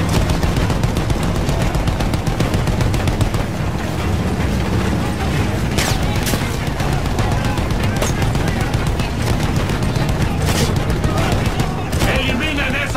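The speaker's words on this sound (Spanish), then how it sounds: "¡Eliminen esa ametralladora!" Sustained machine gun fire in Battlefield 1 on PS4, rapid dense bursts rattling almost without pause amid battle din, loud and close, with shouting voices mixed in.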